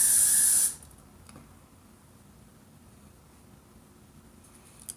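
A short, loud hiss of hairspray is sprayed onto hair up close, lasting under a second and then cutting off into quiet room tone.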